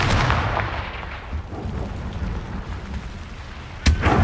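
A Confringo fire blast spell goes off in Hogwarts Legacy as a loud, rumbling burst with a crackling tail, followed near the end by a second sharp impact.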